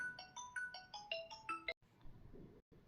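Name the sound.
office telephone ringing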